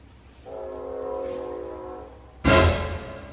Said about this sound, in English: Why do trains exist?